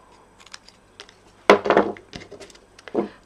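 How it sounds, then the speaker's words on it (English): Scissors snip away one corner of a folded paper card, making a few close, crisp cuts and a small cluster of papery crunches, with light handling clicks before and after. "I'm just going to snip away"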